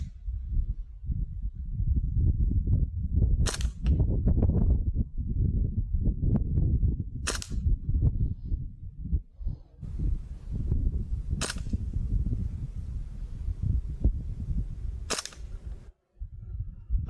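Springfield Armory M1 Carbine BB gun firing at an outdoor target, four sharp cracks spaced a few seconds apart over a low rumbling background, close and loud.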